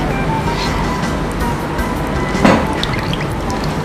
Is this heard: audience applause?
no